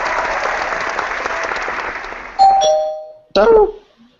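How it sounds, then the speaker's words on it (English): A canned applause sound effect played on a comic book podcast gives a sustained burst of crowd clapping that stops abruptly, followed by two short electronic tones. "You got the applause and stuff?"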